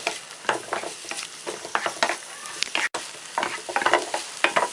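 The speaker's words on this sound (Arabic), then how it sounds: "نشوح برضو البصل تشويحه خفيفه" Onion lightly sautéing in a pan gives a soft, steady sizzle broken by repeated scraping stirs, close and fairly quiet, with no voices.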